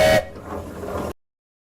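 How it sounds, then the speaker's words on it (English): A short, loud, piercing blast from the steam whistle of a 1902 Indiana-built steam engine at a Greensburg power show, followed by a brief trailing hiss of steam before it cuts off. "let's give it a whistle"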